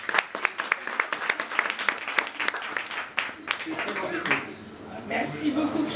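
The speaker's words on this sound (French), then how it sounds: "on va applaudir Julietta" An audience at an evening event applauds with a burst of dense, overlapping claps that fades into a softer, scattered patter toward the end.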